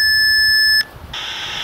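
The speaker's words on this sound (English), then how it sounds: "And the beep's come back to us." UHF/VHF radio repeater GB3NL answering a transmission: a single steady electronic beep, loud and clear, that holds for almost a second and cuts off into soft radio hiss and static.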